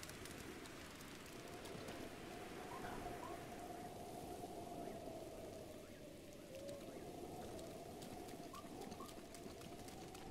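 Rainfall in the Zelda: Breath of the Wild game world, a steady soft hiss of drops lasting throughout, with faint bird cooing and chirps over the wash, no talk.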